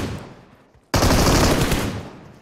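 M416 rifle gunfire in a battle royale video game: a sudden, loud, dense burst of automatic fire that begins about a second in and continues without a break, following a fading rumble.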